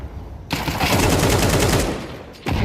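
Shooter video game gunfire: a dense, loud rattling burst of shots starting abruptly, lasting about two seconds, then cutting off before a second burst begins.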